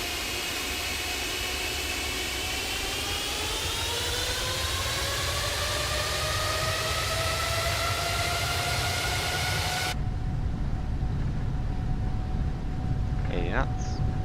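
PMDG 777 airliner on its takeoff roll in Microsoft Flight Simulator with an FTSim sound pack, American Airlines flight out of Miami: loud steady jet engine roar with rising whine tones spooling up, then turbulent broadband noise continuing to the end.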